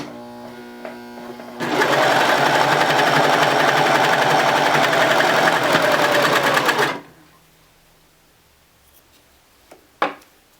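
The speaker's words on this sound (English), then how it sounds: "I'm just sewing across the bottom." A sewing machine stitches fabric wrist wraps for weightlifting, a loud, steady whirring run of about five seconds that then stops, followed by quiet handling and a sharp click.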